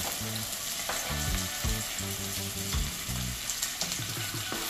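Onion, scallion, thyme, scotch bonnet and sweet peppers, carrot and garlic sauté in a pot with a dense, loud, continuous sizzle, overlaid by a low rhythmic humming pattern and occasional stirring scrapes.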